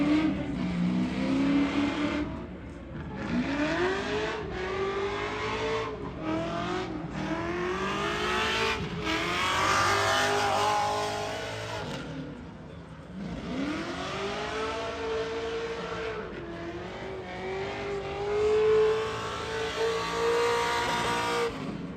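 Car engine roaring through a qualifying lap at the HotPit Autofest motorsport event, heard from onboard with continuous rising and falling revs, repeated shifts and lifts, loud and close, without talk.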